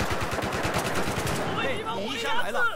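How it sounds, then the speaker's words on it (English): Automatic gunfire in the Battlefield 4 shooter on the Dragon's Teeth Lumphini Garden map, rapid rhythmic bursts for the first second and a half, then fading into game effects and chatter-like tones. "A teammate shot me and hurt me."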